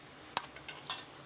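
A utensil scrapes and clinks in a pan while stirring and mixing a spiced vegetarian roast with chilli flakes, two short bright scraping strokes with quieter shuffling between them, close and fairly soft.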